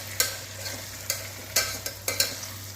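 Red chilli powder stirred into vegetables frying in oil for a vegetable biryani: a few sharp, scraping spoon strokes at irregular intervals over a steady low sizzle and hum.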